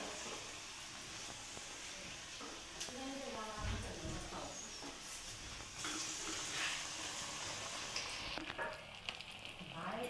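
Bread slices coated in cornflour and flour batter fry in hot oil, a close, steady sizzle with a few bubbling bursts, while someone talks over it.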